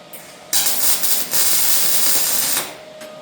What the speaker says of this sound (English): So I'll tack the side closest to me first to make sure they're pulled in tight to my spacers.